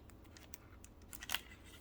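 Scissors clink and snip faintly in a quiet room, a few light metallic clicks as they are picked up before cutting a foil photo balloon.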